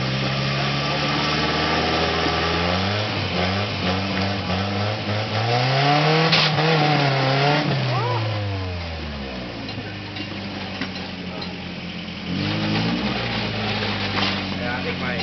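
An off-road vehicle on a rocky trail revs its engine hard in surges, rising and falling as it climbs, with people talking over the steady motor noise.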